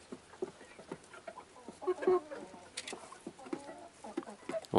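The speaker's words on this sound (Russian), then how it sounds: "Вон тот петушок." A rooster clucks in short, scattered bursts, fairly quiet and close, among soft farmyard rustling.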